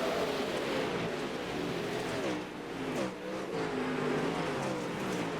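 Sprint cars race in a pack around a speedway in a racing sim video game, their engines holding a loud, continuous whine that rises and falls slightly as the field runs together, with no talk.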